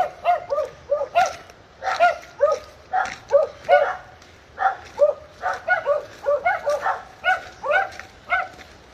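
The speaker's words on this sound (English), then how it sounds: "Just as these dogs do not like our presence." Several dogs bark repeatedly at a rural Andes mountain setting, a steady run of sharp, moderately distant barks in an irregular rhythm with no talk.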